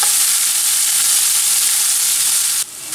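Meatballs browning in a pan give off a loud, steady sizzle and crackle that fills the whole stretch without pause, dropping slightly near the end.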